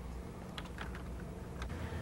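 Keystrokes on a Color Computer keyboard, a short run of soft clicks over a steady hum, with no talk.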